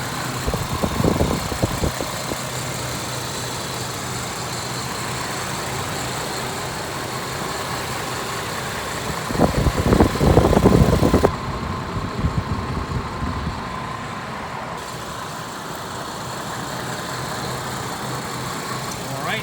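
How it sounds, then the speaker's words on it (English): Idling engine of a 2002 Chevy Trailblazer LTZ 4x4 with the hood open, a steady close hum with a few brief louder rumbles and handling noises partway through. "I'm just going to be quiet and let you guys listen to the motor now."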